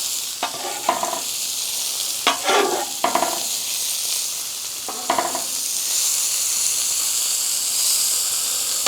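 Peppers sizzling in a frying pan, a continuous loud hiss of frying broken by several scraping stirs and clatters of a utensil, close up with no talking.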